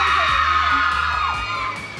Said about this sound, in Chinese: 那尖叫声回应一下啊